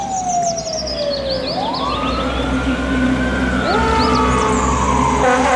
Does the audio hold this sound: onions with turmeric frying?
no